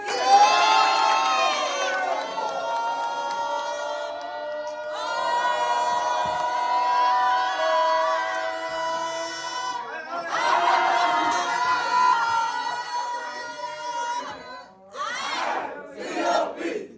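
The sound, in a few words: crowd cheering and applauding for Emil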